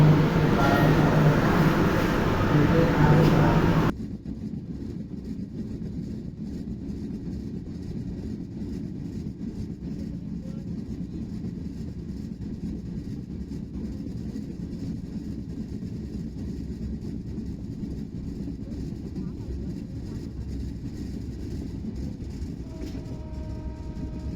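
A Khulna to Dhaka train rumbles along as it slows for a station, heard from on board. A loud burst of noise opens the sound, then it drops to a steady, low, continuous rolling rumble.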